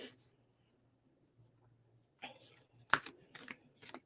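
A deck of cards is riffled and shuffled close by: a few quick bursts of flicking and snapping in the second half, after a quiet stretch with faint low hum.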